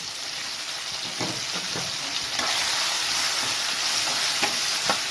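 Unpeeled cucumber pieces fry in a pan of oil tempering, a continuous hissing sizzle with a few scraping stirs and light clinks, close and fairly loud, with no talking.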